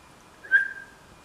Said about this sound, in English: He thinks someone else was whistling.